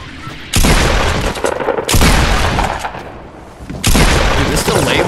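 Shotguns fire in Fortnite Battle Royale, three loud, heavy blasts spaced about 1.5 seconds apart, each with a rough decaying tail.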